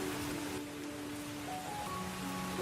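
Cartoon rain falls as a soft, steady hiss of drops, faint and continuous throughout.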